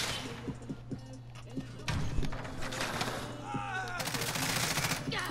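Gunfire in Call of Duty: Modern Warfare, including a shotgun firing slug rounds, cracks out in bursts over a busy game mix, with a voice talking over part of it.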